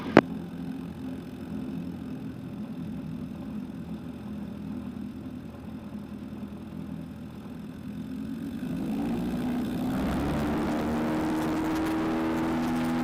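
A Zenith STOL CH 750 Super Duty light aircraft begins its takeoff roll on fresh snow, its engine a steady close drone that swells into a louder, fuller roar near the end of the clip after a brief click at the start.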